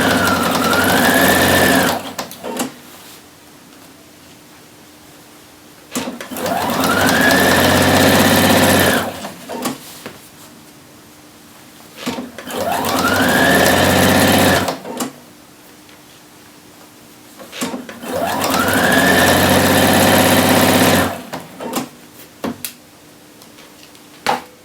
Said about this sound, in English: Pivot at the lapel and sew down the front of the shirt.